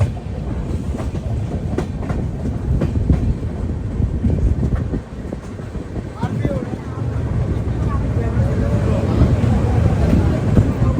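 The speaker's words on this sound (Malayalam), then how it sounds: "ട്രെയിൻ ഇതാ കൊല്ലം ജംഗ്ഷൻ റെയിൽവേ സ്റ്റേഷനിലേക്ക് എത്തിക്കൊണ്ടിരിക്കുകയാണ്" The Vivek Express rolls into Kollam Junction, with a loud, steady rumble and clatter of wheels on the rails, wind buffeting close by and a brief dip midway before the noise builds again.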